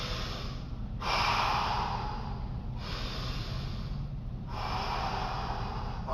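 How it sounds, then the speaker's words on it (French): Heavy breathing after karate training drills comes as three long, loud exhales through nose and mouth, each followed by a brief pause, close and alone. "Prends le temps de respirer."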